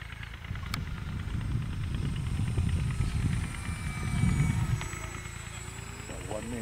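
An XFLY Eagle Twin 40mm RC EDF jet wing at its maiden flight swooshing past overhead, a steady whooshing ducted-fan roar that swells and fades, with people talking nearby.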